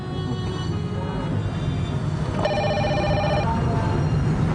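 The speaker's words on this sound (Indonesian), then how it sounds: "kayaknya telepon di belakang bunyi, tolong diangkat dulu sus" A telephone rings in a back room of a medical practice: a steady electronic trill starts partway through and repeats evenly over a constant background hum, fairly clear and alone, with no talk.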